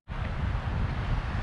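Strong wind buffeting the microphone on a choppy beach at St. Thomas, a loud continuous rumble lasting about a second and a half, with no voices.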